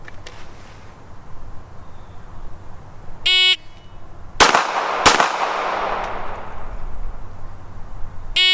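Two sharp handgun shots from a Smith & Wesson Shield fired one-handed with the non-dominant hand during a handgun qualification drill, about a second apart, loud and close with a ringing decay; a timer beep sounds just before.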